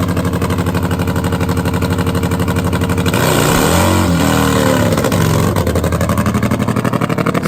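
Injected nitro funny bike, a 134-inch high-gear-only drag motorcycle, roaring loud and steady through a drag race run, its pitch sweeping and swelling midway before settling back into a hard, continuous drone.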